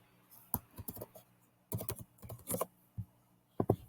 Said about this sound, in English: I'm typing a description here